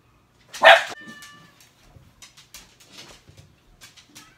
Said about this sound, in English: the dog started barking, so that's what you heard